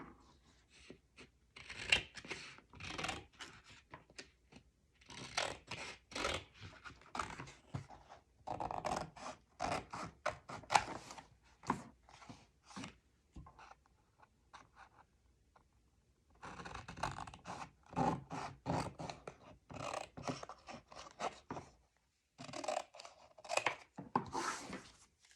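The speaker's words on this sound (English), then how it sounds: "And now we're going to cut all our corners." Scissors cut the taped corners of a handmade base album, producing a series of dry, close snipping and scraping sounds in irregular bursts with short pauses, quiet and with no talking.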